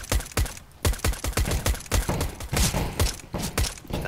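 Rapid gunfire from a competitive first-person shooter match, a dense burst of sharp repeated shots running almost continuously, close and loud with no talk over it.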